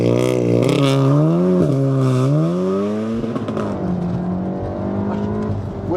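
A Stage 2 tuned Volkswagen Golf R engine revs hard from 20 to 70 mph, climbing in pitch through the gears, loud and close, with quick shifts before settling into a steady high drone.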